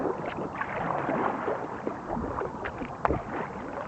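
A sea kayak is paddled downstream on a moving river, with soft strokes and water splashing against the hull up close under steady wind noise and one sharper splash near the end.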